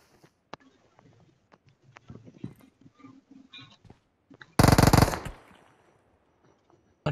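A rapid burst of pistol gunfire erupts loudly in a battle royale video game, a dense string of shots lasting about a second after sparse quiet clicks and footsteps, with another shot at the very end.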